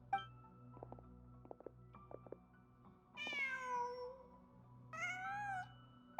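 A cat in the video game Genshin Impact meows twice, clear rising calls separated by a short pause, following a few faint clinking footstep-like taps.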